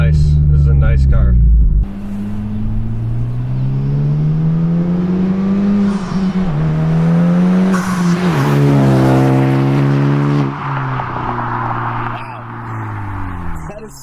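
A car makes a pass under heavy throttle, its loud engine revving hard with climbing pitch sweeps and shifts, close and dominant throughout.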